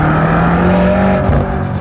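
A 2023 BMW M8 Competition Gran Coupe with the S63 4.4-liter twin-turbocharged V8 drones loud and close in a steady, deep engine roar, with a brief shift in tone partway through and no voices.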